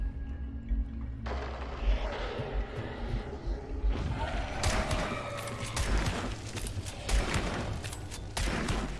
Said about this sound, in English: I got 4 shots on him.